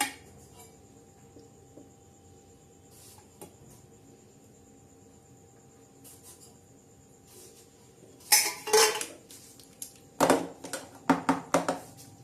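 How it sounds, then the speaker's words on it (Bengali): A pot lid being pressed tightly onto a kadai of water, after a long quiet stretch, heard as a few close bursts of metallic clatter and clinks, then a rapid series of sharp knocks, loud and near, no talking. "টাইট করে ঢাকনাটা লাগিয়ে।"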